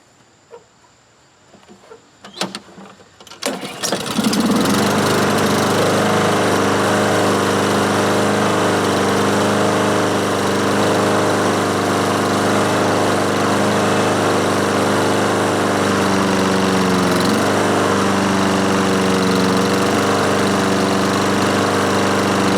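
A Honda small engine with a newly installed carburetor is pulled and fires after a few quiet, irregular clunks, then settles into a loud, steady, buzzing idle held close by for the rest of the clip.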